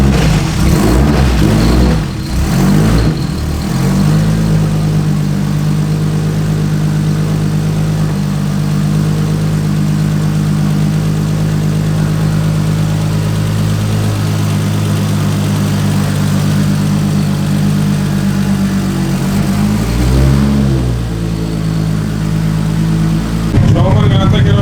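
A Nissan 240SX with a 1JZ-GTE engine and a Garrett GT3076R turbo starts up, then runs loud and close with a rough, steady idle and a couple of revs, while people talk over it.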